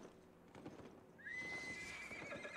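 A horse in the video game Albion Online whinnies with a long high neigh midway through, over soft hoof clatter and light background game sounds.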